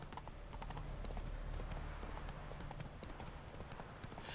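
Horse hooves clip-clopping steadily at a gallop as Roach, the horse in the Witcher 3 video game, runs across game terrain, with a constant low rumble of game ambience underneath.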